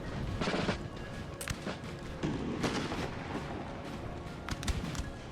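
Howitzer artillery in the video game Napoleon Total War, a battle in a forest: repeated booming shots and thuds at irregular intervals over a steady din of battlefield noise, moderately loud throughout.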